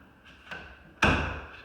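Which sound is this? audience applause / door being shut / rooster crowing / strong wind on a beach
door being shut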